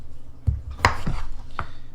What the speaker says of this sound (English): we're just gonna go ahead and chop these up into approximately 1-inch pieces